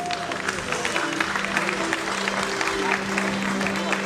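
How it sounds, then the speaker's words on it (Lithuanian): Stormy applause in a hall at a bodybuilding championship, dense continuous clapping blended with crowd noise and cheering, loud and sustained throughout with a steady background roar. "Audringi plojimai salėje,"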